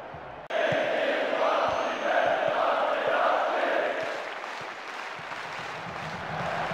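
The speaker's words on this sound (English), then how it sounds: "The crowd starting to get impatient now." Restless stadium crowd noise from a football video game, a steady loud roar of many voices with murmuring and shouts that sustains throughout and eases slightly toward the end.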